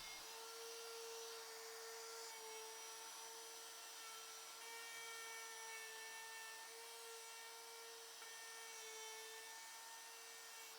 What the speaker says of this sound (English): I'm ready to shape the mortise with the template bit